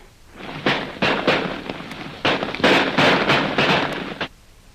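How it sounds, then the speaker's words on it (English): Rapid gunfire for a radio drama sound effect, about eight or nine loud, booming shots in quick irregular bursts, close and echoing, with no talking over them. "We'll shoot several times as fast as we can, Lil."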